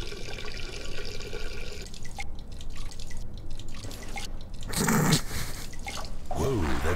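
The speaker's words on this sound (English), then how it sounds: "I'm just taking a leak." Duke Nukem urinating into a toilet in a video game, a near, continuous trickling and splashing of liquid into water that swells toward the end over a steady hiss.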